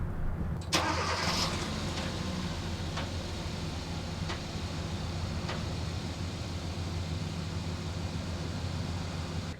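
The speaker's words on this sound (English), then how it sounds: "So I just start the car, let my foot off the brake, and it's like trying to engage something." A Hyundai Tucson with a dual clutch transmission fault starts up, a brief crank and catch giving way to a steady idle, with a few faint clicks and knocks as the transmission tries to engage.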